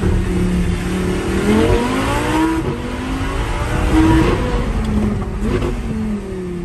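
A car engine revs hard through a modified exhaust, climbing and falling in several loud, close pulls with a brief tire-like squeal, and no one speaks over it.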